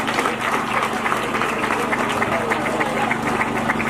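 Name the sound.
audience applause at a school event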